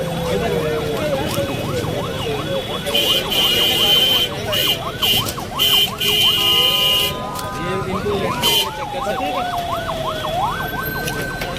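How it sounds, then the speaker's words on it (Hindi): An ambulance siren wails, rising and falling in quick cycles amid highway traffic noise and honking horns at a road accident on the Islamabad Kashmir Highway, with voices talking over it nearby. "एम्बुलेंस का रास्ता दें"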